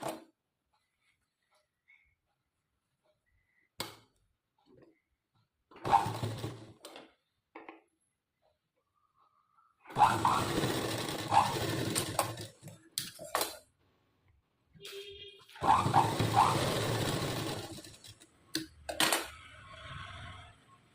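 A sewing machine stitching the shoulder seam of a frock, running in several short bursts of rapid mechanical stitching separated by near silence, with a couple of longer runs toward the end.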